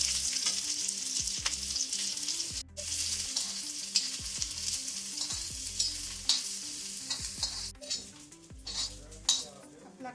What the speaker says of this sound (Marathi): कांदा टाकते मी आता.